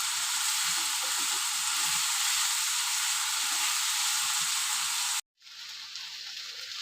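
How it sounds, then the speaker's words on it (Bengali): Vegetables fry in a pan with a steady, bright, close sizzle that runs on evenly, cuts out briefly near the end, then resumes, with no talk. "ভালো করে আমি সবজিটা ভেজে নেব"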